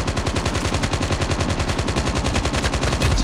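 Rapid automatic gunfire from the mobile shooter game Call of Duty Mobile, a fast, steady stream of loud shots running continuously without a break.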